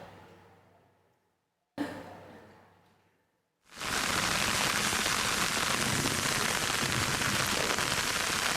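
Heavy rain falls at a highway toll gate, starting as a dense, loud, continuous hiss after two brief fading noises and a short silence.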